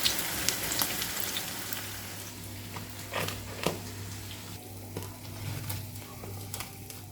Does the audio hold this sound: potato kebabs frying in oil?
yes